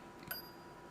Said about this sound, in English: you hit the analog bell. But it was like so light you could barely hear it.